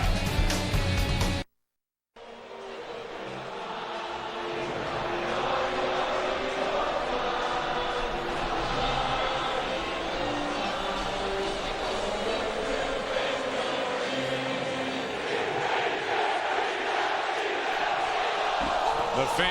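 A stadium crowd of Philadelphia Eagles fans, at home against the Dallas Cowboys in 2008, sings a song as one loud, sustained roar that fills the air. A commentator talks over it.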